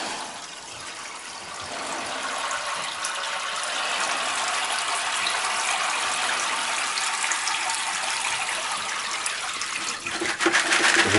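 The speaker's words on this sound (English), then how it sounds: "place the yellow bucket into this black bucket and allow it to drain down into it" Liquid from gold recovery of e-waste RAM sticks draining from a yellow bucket into a black bucket, a steady close gushing trickle lasting throughout and swelling slightly near the end, with no talking.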